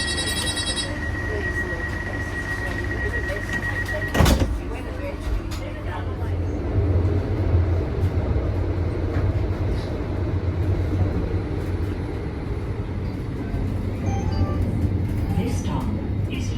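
Rumble of a new tram running on the L1 Dulwich Hill light rail line, a steady low drone heard from inside the car, with a sharp knock partway through and faint background chatter.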